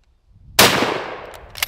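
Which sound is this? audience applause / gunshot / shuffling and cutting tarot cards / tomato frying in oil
gunshot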